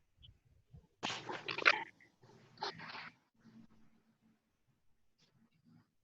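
Pet dogs going wild at home, giving two loud bursts of excited barking close by, followed by quieter scattered yips and rustling.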